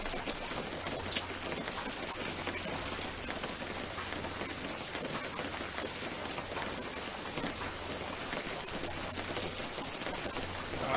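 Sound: rain falling, from a video game

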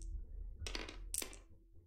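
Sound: rolling four dice in a board game

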